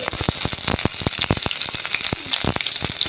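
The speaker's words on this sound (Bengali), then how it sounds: "সর্ষের তেলে রান্না করছি আমি আর ফোড়নে দেবো আমি তেলটা একটু গরম হলে ফোড়নে আমি জিরে দেবো গোটা জিরে" Whole cumin seeds crackling in hot mustard oil, a loud, close, continuous sizzle dotted with rapid popping bursts as the seeds spit in the pan.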